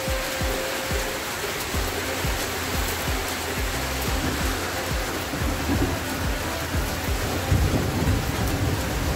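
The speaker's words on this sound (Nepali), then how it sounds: "चर्को पानी पर्दा चाहिँ बाहिर त के हो देखाएको छु है" Heavy rain pours outdoors on a hilly road in Nepal, a loud, steady, dense hiss of downpour with a low rumbling undertone throughout, with no voices.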